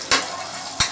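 Small onions sauté in a pan for a biryani, with a steady sizzle and two short louder bursts of stirring.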